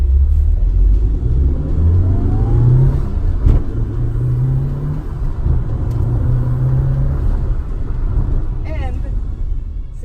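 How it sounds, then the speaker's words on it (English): A Mitsubishi Lancer Evolution IV is driven hard, its engine droning and revving up in rising sweeps with a deep rumble, loud and close, while someone talks over it. "I am pushing the car to its limits a little bit"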